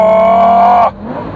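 Lamborghini Gallardo engine roaring loud and close with a steady high-rev tone, then cutting off abruptly as the revs drop, leaving a lower rumbling idle.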